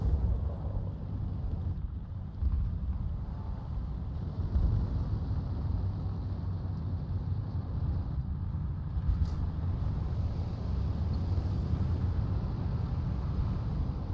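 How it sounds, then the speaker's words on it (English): Enemy tank engine in the War Thunder video game, a continuous low rumbling drone with a windy hiss over it, steady and moderately loud throughout with no talking. "You'll just hear engine noise."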